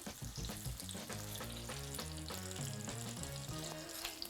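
Squashed spring potatoes frying in hot oil in a crowded pan, a steady close sizzle with crackling spits, heard alone without talk.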